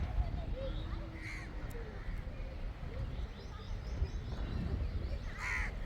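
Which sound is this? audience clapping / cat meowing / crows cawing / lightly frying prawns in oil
crows cawing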